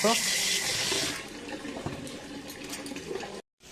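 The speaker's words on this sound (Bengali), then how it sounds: "ঠান্ডা জল দিয়ে দিলাম।" Cold water pours in a steady rush into a kitchen vessel, loudest for the first second and then settling into a softer running flow with faint clinks, before cutting off abruptly near the end.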